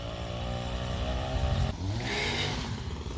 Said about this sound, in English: finish loading up this air compressor